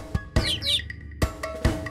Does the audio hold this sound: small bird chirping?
yes